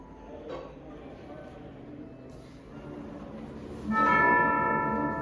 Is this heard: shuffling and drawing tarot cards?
no